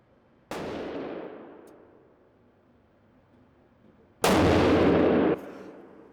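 Two sharp, loud rifle shots from a Bergara Crest fitted with a muzzle brake, several seconds apart, each a sudden blast with a long fading tail outdoors.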